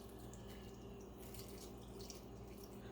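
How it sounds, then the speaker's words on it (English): Coconut water pours steadily from a container over protein powder, making a continuous soft trickling, splashing flow that stays even and fairly close throughout, with no talking. "I pour the coconut water in here just to saturate the protein powder down"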